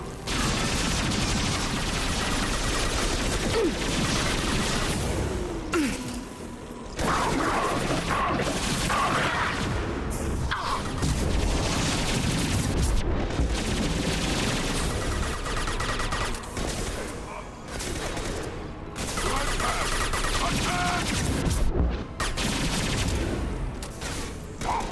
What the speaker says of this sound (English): This weapon is a goddamn laser.